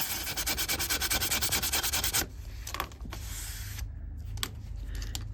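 Steady rhythmic scraping of sandpaper on stainless steel trim, loud and close for about two seconds, then stopping, leaving quieter handling noises and room hum.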